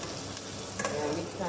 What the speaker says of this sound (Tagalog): Saute lang po natin siya.